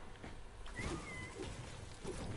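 A cat meows faintly a couple of times, thin and distant, over a steady background hiss with no talk.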